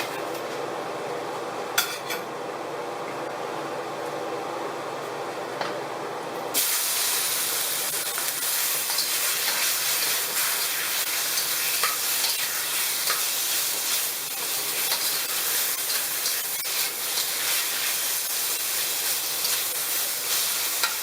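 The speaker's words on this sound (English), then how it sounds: "First thing we're going to do is we're going to stir fry the beef" Beef cut small with a cleaver is stir-fried in a hot wok swirled with oil, giving a loud, steady broadband sizzle and hiss with occasional metal clinks. It runs alone with no voices.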